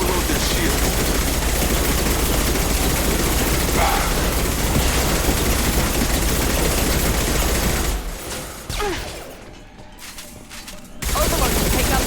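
A Mass Effect 2 firefight: dense, continuous automatic gunfire with mechanical clatter, loud and sustained for most of the stretch, briefly dropping out near the end before resuming, with voices calling out amid the shooting.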